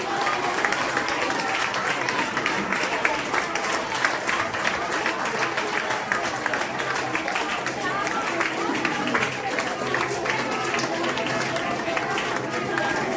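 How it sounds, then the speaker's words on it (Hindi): A church congregation claps and cheers loudly, with dense rapid hand-claps, crowd noise and raised voices mixing together continuously and close by throughout. "ताली बजाकर उसकी जय जयकार करो"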